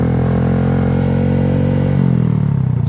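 A motorcycle engine runs loud and steady at close range, its note dropping and shifting as the rider eases into a slight wheelie, with a rough, throaty drone throughout and no talk.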